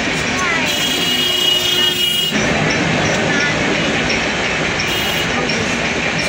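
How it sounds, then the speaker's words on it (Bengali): A Rajdhani Express thunders past close by, a loud, continuous roar of wheels and carriages on the rails that holds steady for the whole stretch, with a sharp change in tone partway through. "রাজধানী এক্সপ্রেস, রাজধানীর মতোই যাচ্ছে।"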